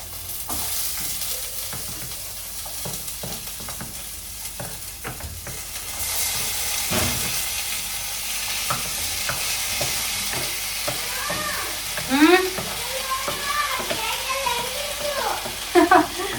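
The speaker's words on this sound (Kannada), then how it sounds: "ನಾನೀಗ ಎಲ್ಲ ವೆಜಿಟೇಬಲ್ಸ್ನ ಆ್ಯಡ್ ಮಾಡ್ತಾ ಇದ್ದೀನಿ" Onions and chillies sizzle while mixed vegetables are added and stirred in a hot pan, steady frying with scraping and stirring clatter throughout, some voices faintly in the background.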